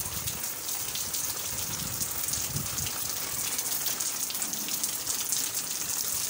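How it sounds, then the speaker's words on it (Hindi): Rain falling steadily in Karachi, drops pattering on surfaces in a continuous dense hiss with faint low splashes, no voices, even and unbroken throughout. "स्पेशली बारिश की जो आवाज़ होती है, बारिश के कतरे जब गिर रहे होते हैं और उसकी जो आवाज़ होती है"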